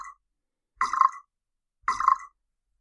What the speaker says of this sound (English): You press the B key and it plays a burp sound effect.